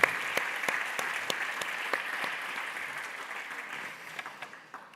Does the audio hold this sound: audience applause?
yes